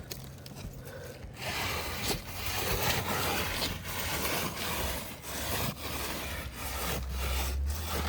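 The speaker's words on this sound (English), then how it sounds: "I'm just gonna rub my hand to this area that I didn't work on" A hand rubs steadily back and forth over a wooden gun stock, giving a close, continuous dry scraping and brushing texture with rhythmic strokes and no talking.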